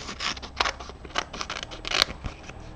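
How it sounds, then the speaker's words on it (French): Foliage being cut with scissors for a festive table place-card decoration, a run of short, close snips and rustles of leaves at an uneven rhythm, with no voices. "Je commence par découper"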